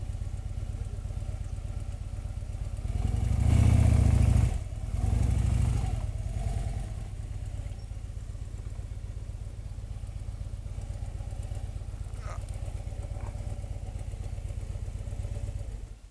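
A motorcycle engine idles with a steady low putter, briefly revving louder for a couple of seconds before settling back to a constant idle, outdoors in the Dzhily-Su valley.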